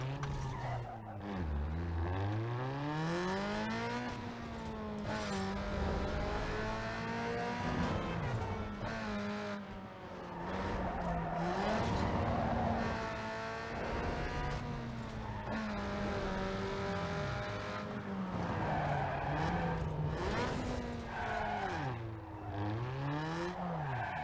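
Racing engines in Need for Speed Underground 2 roar steadily and loudly with rising and falling revs and gear shifts, tires squealing as cars skid through corners, continuous throughout without talk.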